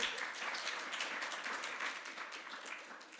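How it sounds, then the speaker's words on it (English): An audience applauds as a tech talk on Flutter, Arduino and Raspberry Pi opens, dense clapping from many hands filling the room and tapering slightly toward the end. "I think this might be the first time I've gotten applause at the beginning of the speech"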